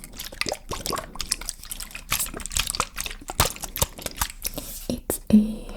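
Liquid sloshes and trickles inside a small bottle of Lush Tonic cleansing water, close and intimate, with soft irregular gurgles and shakes in bursts, ending with a brief louder shake.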